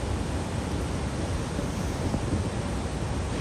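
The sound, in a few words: Horseshoe Falls, Niagara waterfall roaring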